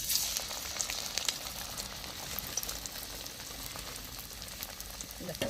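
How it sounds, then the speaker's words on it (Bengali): Banana flower patties sizzling in hot oil give a steady, crackling fry with small pops, fairly quiet and continuous throughout. "এবার আমি এটাকে হাতে নিয়ে আবার তেলের মধ্যে দিয়ে দিলে একবারে মুচমুচে দো পেঁয়াজা ভাজা হয়ে যাবে"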